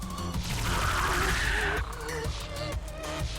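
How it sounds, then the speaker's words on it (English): Antimatter Mark IV cannon firing in Xenonauts, a sustained roaring energy blast followed by a few rapid impact thuds over continuous game background noise. "Let's try Antimatter Mark IV cannon."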